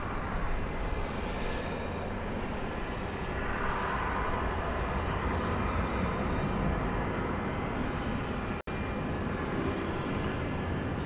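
A jet airplane taxis and turns off runway 18 left at DFW Airport at night, making a continuous broad engine roar at moderate distance that swells slightly partway through.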